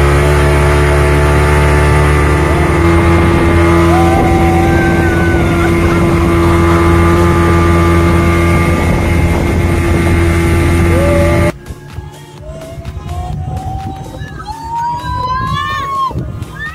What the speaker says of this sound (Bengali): আমরা 4 জনের যে মোটর বোট আছে সেই রাইডটা নেব।